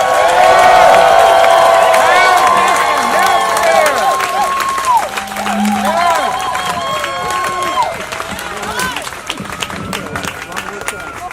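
Rally crowd at a housing and health care event clapping and cheering, loud at first and tapering off, mixed with crowd voices and chatter.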